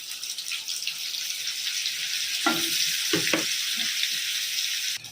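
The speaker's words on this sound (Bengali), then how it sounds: "আর দিয়ে দিলাম এই যে বাটার" Butter sizzles in a kadai of hot white oil, giving a steady close frying hiss with a few brief knocks and scrapes from a utensil partway through.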